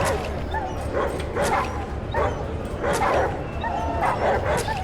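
Dogs fight in a dog ring in the video game ATOM RPG, barking, yipping and whimpering in repeated loud bursts over a constant low background hum.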